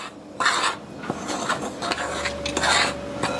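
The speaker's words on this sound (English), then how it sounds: "I'm just going to give that a nice mix here real quick" A utensil scrapes and clinks against a bowl while salt is mixed into okra cornbread batter, steady close rubbing and stirring with a few sharp taps, no talking.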